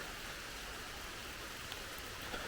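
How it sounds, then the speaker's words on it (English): Light rain falls on a ledges hiking trail in Cuyahoga National Park, a soft, even hiss of drops that holds steady throughout with no voices. "It's raining a little bit, but it's okay."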